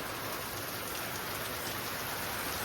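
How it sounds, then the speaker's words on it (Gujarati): Steady, dense rain pours down continuously as an even hiss, close and fairly loud with no other sounds standing out. "વરસાદ તો ચાલુ જ છે"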